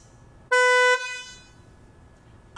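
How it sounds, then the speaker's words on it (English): A 2020 Toyota Supra's car horn gives one short, loud, high-pitched beep of about half a second, thin and moped-like, followed by quiet. "And I'm not joking, because my horn literally sounds like this."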